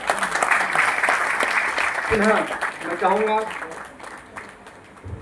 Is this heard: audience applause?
yes